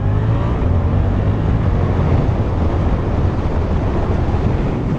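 A Suzuki GSX-8S motorcycle speeds up on a country road in southern Romania, its engine rumble buried under a loud, constant roar of wind buffeting the microphone.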